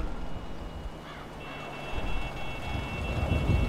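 Rain falls in GTA V as a steady broadband hiss with low rumbling underneath, growing a little heavier toward the end, with faint tonal game sounds in the background and no speech.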